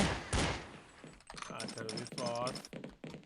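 Gunfire from a shooting video game such as Free Fire or CS 1.6, with a loud burst early on and then rapid shots mixed under excited talk from players.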